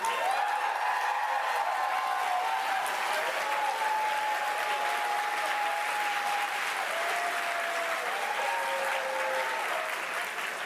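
A large audience applauds at the Dead by Daylight 10th anniversary event, a dense, sustained roar of clapping lasting the whole stretch, with a faint tonal sound and a few voices underneath.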